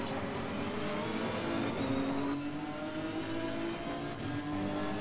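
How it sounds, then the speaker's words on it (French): Race cars in Assetto Corsa Competizione whine and drone with layered engine tones rising and shifting in pitch, a steady dense mix of several cars close by. "il y a des voitures qui rentrent dans les stands"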